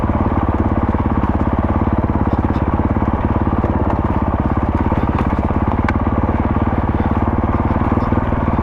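Motorcycle engine climbing a hill on a dirt trail, a steady loud rapid-firing drone that holds close and constant throughout with no talk.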